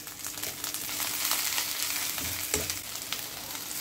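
Curry leaves sizzle in a hot pan for a coriander curry. A steady, close crackling fry runs throughout, mixed with occasional stirring scrapes.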